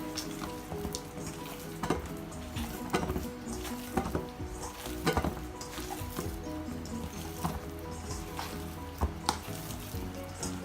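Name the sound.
mushing crumbled Gorgonzola into sausage mince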